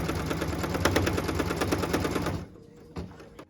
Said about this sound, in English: What we're stitching now is the cut line for piece number 3 to join our block